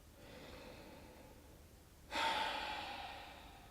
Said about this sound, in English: getting big, deep breaths